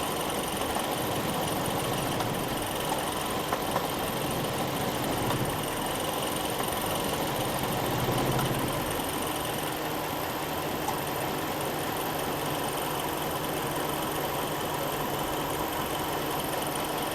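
A Jeep engine idles during exhaust cam diagnosis, a faint steady mid-to-low running hum with a slight swell partway through and no voices.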